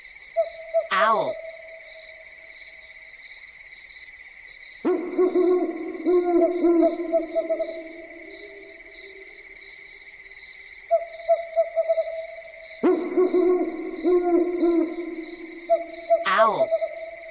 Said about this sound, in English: Owl.